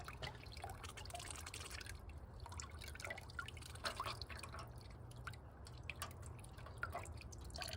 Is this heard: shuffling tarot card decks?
no